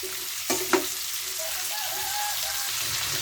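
String beans sautéed with dried squid in a pan give a steady, soft frying sizzle with a couple of sharp clinks near the start and no talking.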